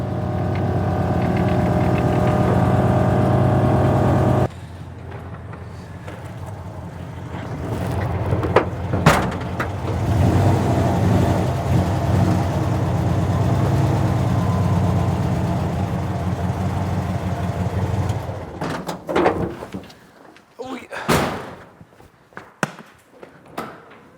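A tiny, narrow air-cooled BMW car rolls into a shop bay, its engine idling and chugging steadily up close, then cutting off near the end, leaving scattered clicks and knocks in the quiet garage.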